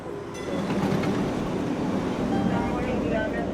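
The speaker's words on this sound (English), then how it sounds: "Okay, now the train is pulling up. The Green Line E trolley headed to Heath" An MBTA Green Line E trolley bound for Heath Street pulls into the station with a loud, sustained rumble of rolling wheels and rail noise, heard close and continuous after a brief quieter start.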